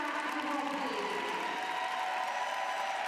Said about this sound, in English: nice to hear the support from the home crowd as Maurizio Margalio looks on for Jukka Orih